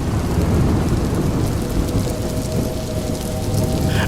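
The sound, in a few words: heavy rain and thunder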